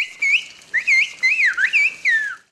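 Turkish whistled language, the bird language of the Eastern Black Sea, is whistled in a clear, high, piercing voice, a quick run of gliding, rising and falling phrases split by short gaps, loud and close with nothing else heard.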